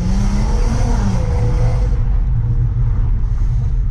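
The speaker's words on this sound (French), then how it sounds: "on l'entend, un peu la sonorité d'origine du R32, ce bruit très métallique" A Volkswagen Golf 4 R32 engine revs hard with a harsh, metallic rasp, loud and close, then eases off to a steady rumbling drone.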